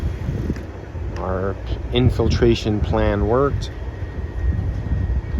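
Fast ferry engines hum steadily at Virgin Gorda as a broad, constant drone while someone talks over it.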